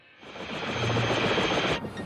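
A cartoon helicopter flies steadily close by, with a loud whirring engine and a fast rotor pulse sustained for about two seconds before cutting off.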